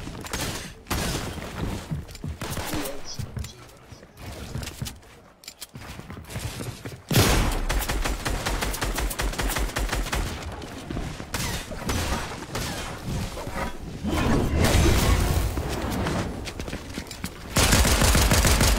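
Fortnite video game gunfire, long stretches of rapid automatic fire and bursts from close range, loud and nearly continuous with short pauses between volleys.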